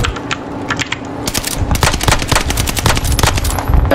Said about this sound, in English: Some guy shot me up there and killed me.